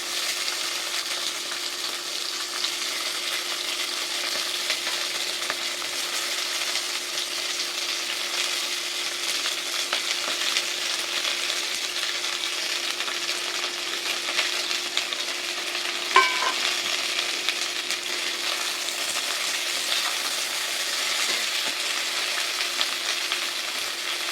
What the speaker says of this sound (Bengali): ধুয়ে কেটে রাখা শিমগুলো আস্তে আস্তে কড়াইয়ের মধ্যে ছেড়ে দিচ্ছি